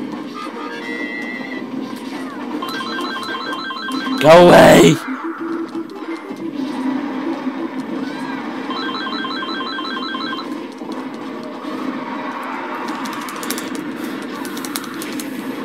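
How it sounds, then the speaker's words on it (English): A telephone rings in repeated electronic bursts during a Super Smash Bros. Brawl play session, with game sounds and a burst of loud noise in between, while people talk and exclaim over it. "Stupid phone."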